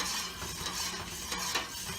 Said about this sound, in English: Just going to keep on stirring.